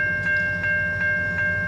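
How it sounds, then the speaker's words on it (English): A train rolls through a town intersection in Old Metairie, making a steady rumble with a bright sustained tone and four evenly spaced rhythmic clacks, loud and near, with no voices. "Trains running through Old Metairie have become more of a headache."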